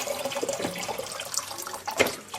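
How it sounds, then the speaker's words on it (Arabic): Vinegar poured into a bowl half full of water while cleaning beef intestines, a soft continuous splashing trickle with a slightly louder splash near the end, close and fairly quiet. "هنفض خل"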